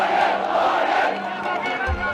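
Huge crowd of protesters in Myanmar shouting together in a dense, steady roar that stays loud throughout, with voices blending into one mass.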